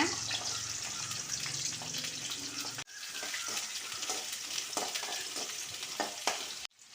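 Shallots and garlic cloves frying in sesame oil for a Chettinad fish curry, a steady dense sizzle throughout with a brief break partway and stirring scrapes.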